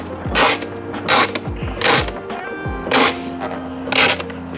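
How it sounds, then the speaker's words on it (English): A garden pressure sprayer is pumped to build pressure, five loud rhythmic strokes with creaking, ratcheting mechanical squeaks, close up and alone. "You pump first to build a bit of pressure up"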